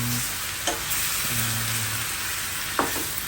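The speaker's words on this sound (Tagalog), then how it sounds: "Tapos saka natin ibigisa." Marinated chicken for chicken adobo sautéing in a hot pan, a steady close sizzle with a couple of sharp clacks from stirring and some faint tones in the background, no speech.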